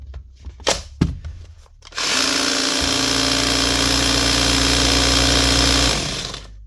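A few sharp clicks, then a Bosch GBH 36VF-LI Plus 36V cordless SDS hammer drill, low on power, whirs and hammers steadily at close range for about four seconds before winding down.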